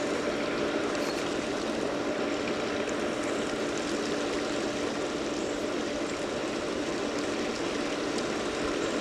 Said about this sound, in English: we're vacuuming this water all the way out